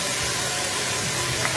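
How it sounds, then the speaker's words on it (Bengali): Ground cumin, tomato sauce and ginger-garlic paste fry in hot oil in a pan for pulao, giving a loud, steady, continuous sizzle with no one talking. "এটাকে ভালো করে ভেজে নিতে হবে"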